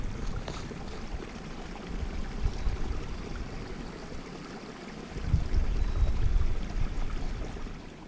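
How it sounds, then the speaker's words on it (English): A small brook running slowly and fairly quietly outdoors, a soft continuous rush of water that swells louder twice, with no one speaking. "And our brook is roaring here. Well, not roaring, but slowed down a little bit, but we can listen to that."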